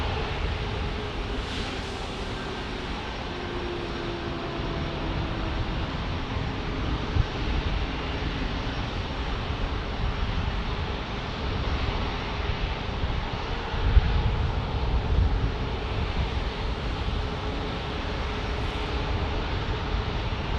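Business jets including a G280, a Falcon, a Cessna Citation 680 and a Longitude passing at an airport in San Diego, a steady distant roar of jet engines that swells gently and holds for twenty seconds.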